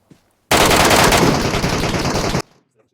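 Rapid automatic gunfire from the PUBG Metro Royale video game, a loud continuous burst lasting about two seconds, close and dense, with no talk over it.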